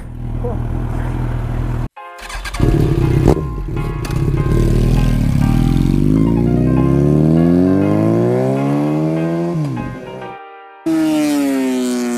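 A Yamaha motorcycle revs and rides, its engine note climbing and falling through the gears, loud and close with a few brief dropouts.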